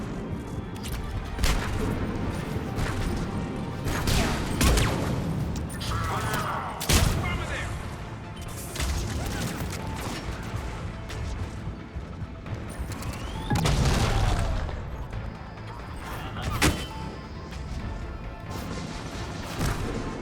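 Bombs going off in the video game Mass Effect 3, repeated heavy crashing blasts and thuds in an ongoing battle over a dense rumbling background, with a voice talking intermittently over the explosions.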